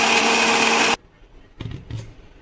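Mixer grinder grinding roasted spice paste for a squid (makul) curry, a loud steady whirring motor that stops abruptly after about a second, followed by quieter clatter and two brief bumps as the jar is handled.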